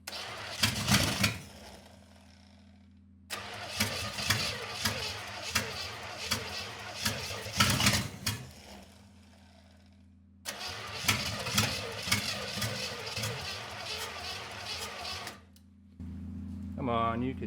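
A small-block Chevy 350 V8 that sat for 15 years cranks and sputters in several loud, close bursts of a few seconds each, separated by short pauses, with voices briefly heard at moments.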